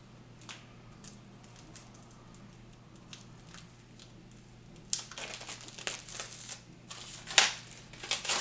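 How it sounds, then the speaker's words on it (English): Plastic wrapping on a Warhammer Underworlds: Beastgrave game box is carefully cut open by hand, with a quiet stretch giving way to crisp, crinkling bursts of packaging in the latter half, close and moderately loud, with no talking. "I'm just going to carefully cut into that."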